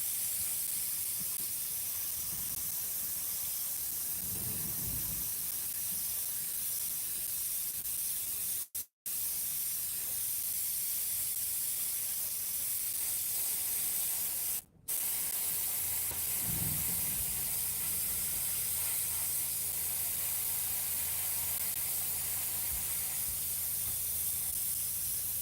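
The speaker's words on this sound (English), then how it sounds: "This is Tim's airbrush" An airbrush sprays in a steady, soft hiss that runs almost unbroken for a long stretch, with two very short cutoffs and a couple of faint low bumps along the way.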